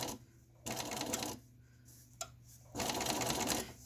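A home sewing machine stitching soft curves runs in two clear bursts with a pause between them. The steady whirring and needle chatter are close and loud, with a brief click in the gap.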